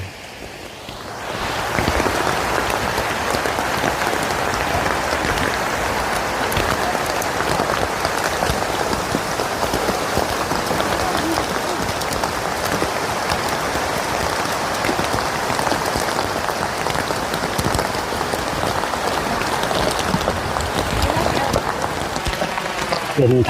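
Heavy rain pours steadily at Khao Kho in Phetchabun, a dense, loud, unbroken hiss that starts after a quiet second or two and continues evenly throughout, with no talking heard.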